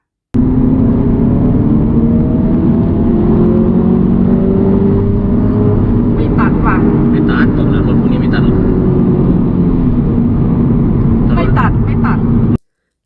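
A 2022 Audi TT Coupe 45 TFSI quattro S line engine revving steadily, a loud continuous droning hum that holds for most of the stretch with slight rises in pitch.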